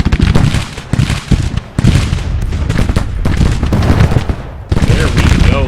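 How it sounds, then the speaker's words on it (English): Loud, dense battle fire in a Civil War video game, with heavy booms of artillery cannon mixed into sustained musket crackle and a few short gaps between bursts. "Looks like even our own artillery are targeting their cannons."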